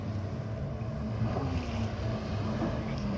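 A Yamaha High Output 1.8 liter personal watercraft engine drones steadily at a distance over open water, its hum blended with wind buffeting and water noise, continuous and fairly faint.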